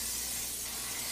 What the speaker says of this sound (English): what I'm going to do is spray my container, the pot, with some non-sticking